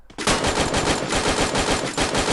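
Rapid bursts of automatic gunfire rattle continuously and loudly, a dense run of shots with brief gaps, from a Free Fire firefight played on an iPhone 8 Plus.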